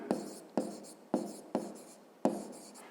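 A pen writes numbers while an equation is solved for a fifth-grade maths exercise, five close, quick scratchy strokes, each a sharp tap-like start trailing off, spaced unevenly with short quiet gaps.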